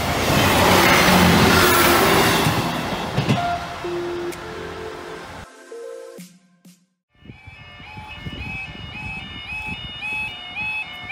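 An East Midlands Railway passenger train roars past a level crossing at close range, loud and rushing, then fades; afterward a bell-like chiming tone rings repeatedly.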